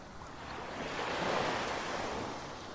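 Waves wash onto Maspalomas beach in a soft, steady surf roar that swells and fades, with light wind on the microphone and no voices.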